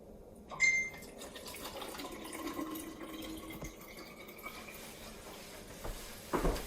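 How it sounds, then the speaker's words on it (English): Water poured into a bottle of infused water holding strawberries and other fruit: a steady, faint trickling fill running for several seconds at close range, with a small clink near the start and another near the end. "Now I'll put the water in."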